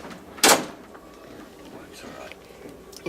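A cabin door on an overnight train slides or bangs once in a short, loud burst near the start, followed by quiet cabin ambience with faint movement.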